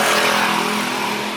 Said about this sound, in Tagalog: Mga sasakyan.